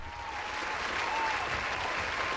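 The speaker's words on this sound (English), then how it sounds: "Big applause" An audience applauds a guest on a talk show, a steady, even burst of clapping held at a constant level from start to finish with no voices over it.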